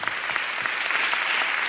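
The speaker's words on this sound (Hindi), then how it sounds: "क्या बात, ताली बजा दें वचन के लिए।" A church congregation claps for the sermon at a special service, an even, sustained burst of many hands clapping with no talk over it.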